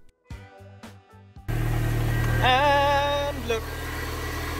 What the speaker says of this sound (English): Whilst we're putting the bracket back in, we left the vehicle running.